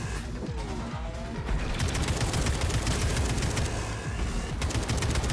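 Continuous gunfire in Atomic Heart rattles through a dense, loud game soundscape, with rapid overlapping shots and mechanical clatter and crashes running steadily for about five seconds without speech.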